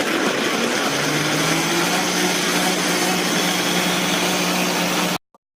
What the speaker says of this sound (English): And now you just blend.